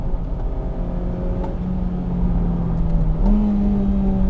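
Inside a Honda Civic Type-R FD2, the engine holds a steady close drone, then climbs slightly in pitch near the end as the revs rise.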